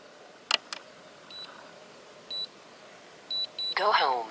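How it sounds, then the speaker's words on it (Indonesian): A DJI Phantom 3 drone remote controller gives a go-home alert, short electronic beeps spaced apart at moderate level, with a couple of sharp clicks early on and a brief warbling tone at the end, over quiet outdoor background. "Ketika remote-nya sudah beep, ada bunyi go home dari aplikasi"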